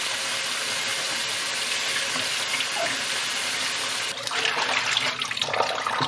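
Water splashes and sloshes steadily as produce is scrubbed in a basin, a continuous wet rush that turns choppier and more agitated toward the end.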